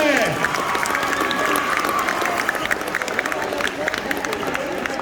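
Sustained audience clapping at a high school Latino cultural festival staged by a Spanish club, dense and steady throughout with a crowd murmur underneath and scattered cheers.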